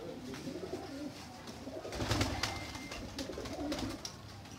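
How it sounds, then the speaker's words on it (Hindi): Golden pigeons coo softly and repeatedly amid a busy background of fluttering, rustling and low bird murmurs, close by. "गोल्डन कबूतर है ये भी"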